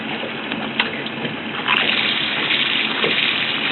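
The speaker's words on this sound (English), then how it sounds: "I'm going to get ready to turn on the bilge" A boat's bilge pump switches on and pushes a large volume of water out fast, a steady loud rushing gush that swells after a brief lead-in of water noise.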